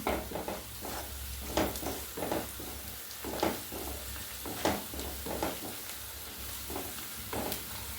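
Onions fry in a pan for a papped curry, giving a steady sizzle while a spatula scrapes and stirs in repeated bursts; close and fairly loud, with no talking.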